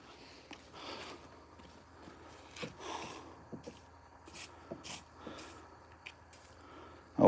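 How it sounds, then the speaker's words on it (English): WD-40 lubricant sprayed from an aerosol can in short hissing bursts onto parts of a Trail Rider 570 that won't slide, with handling clunks and shuffling between sprays, close and fairly quiet. "I'll spray some around all of them."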